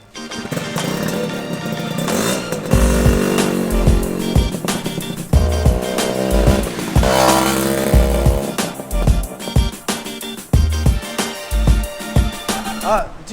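A motorbike engine revs and idles nearby in Pattaya, with repeated throttle blips and droning revs over loud background music that plays throughout.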